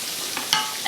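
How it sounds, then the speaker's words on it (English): Shrimp frying in a pan of cooked pasta with a splash of pasta water, a steady close sizzle with brief louder stirring bursts near the middle and end. "I'm just frying up the shrimp"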